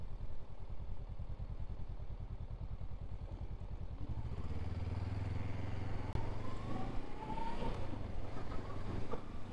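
Honda CL500 motorcycle riding through a town centre, its engine a steady close throbbing drone with a shift in pitch partway through, plus wind noise and traffic clatter.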